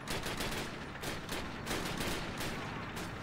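Rapid automatic gunfire fills Call of Duty: United Offensive, dense repeated shots in fast rhythmic bursts, loud and close, with no speech over it.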